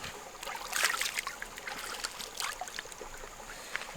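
A forest stream flows steadily nearby with a soft continuous trickle and faint splashes, alone without voices.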